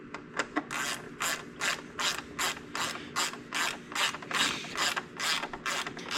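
A ratchet wrench tightens a bolt on a riding mower fuel pump, giving repeated rapid clicking bursts in an even back-and-forth rhythm, close and clear with no talk.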